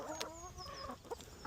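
Hens cluck close by at a backyard coop during egg collection, several short clucks and warbling calls with no voices.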